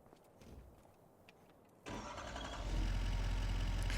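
A truck engine cranks and catches in Farming Simulator 25, a sudden start after quiet ambience, then settles into a steady low idle that swells slightly louder toward the end.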